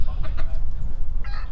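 Large rooster clucking on a homestead farm, a few short low clucks close by over steady outdoor noise and rumble.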